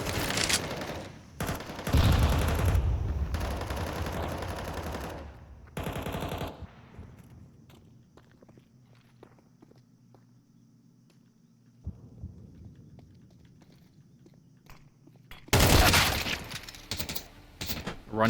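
Automatic weapons in an online shooter game fire in loud, sustained rattling bursts, drop away to a quiet stretch with faint rumble, then erupt again in another heavy burst.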